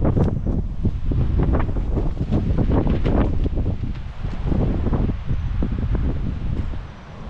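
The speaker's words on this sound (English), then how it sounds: "really, really windy this morning" Strong morning wind on an island, roaring in continuous gusts and buffeting the microphone, loud and close, with a rustling texture like leaves or surf underneath and no voices.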